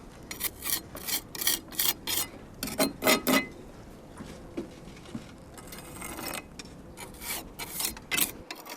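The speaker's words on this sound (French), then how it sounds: "il faut serrer le mortier, on fait une première passe, après on le serre, puis après on y applique la finition, on le feutre" Steel trowel pressing and float-finishing lime mortar on a church wall, a rasping scrape in repeated strokes, some quick and rhythmic, others slower and softer, close by with no talk.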